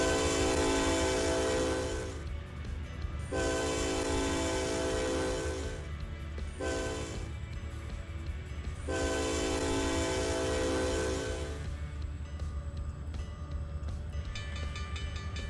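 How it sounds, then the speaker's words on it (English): Train horn from a locomotive in the Trainz 2019 railway simulator, sounding in several long sustained blasts separated by short breaks, loud and close over a steady rumbling engine bed with no talking. "Definitely excuse the horn sound if you don't like it."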